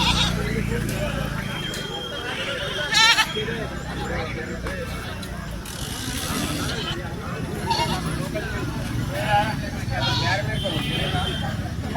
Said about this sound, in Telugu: మేకలు ఇంకా గొర్రెలు ఈసారి మంచిగా వచ్చినాయి